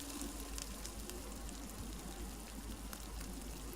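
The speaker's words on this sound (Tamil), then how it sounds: "நறுக்கி வச்சுருந்த பச்சை மிளகா எல்லாத்தையும் சேர்த்து நல்லா சால்ட்டே பண்ணிக்கலாம்." A faint, steady sizzle of chopped green chilies sautéing in a hot pan, crackling continuously without any talking.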